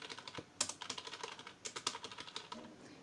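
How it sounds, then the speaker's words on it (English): Someone types on a computer keyboard, a close run of quick, irregular key clicks with short pauses, no talking. "just I am typing here."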